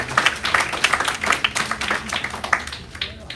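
Audience applause for a speaker at a senior care conference, a dense wash of many hands clapping steadily throughout, fairly close and loud, fading slightly at the end.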